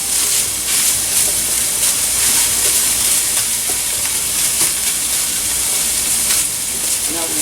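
Vegetables for shrimp pad thai sizzle and hiss steadily in a hot oiled pan, a loud, close, continuous frying with occasional stirring scrapes and no talking.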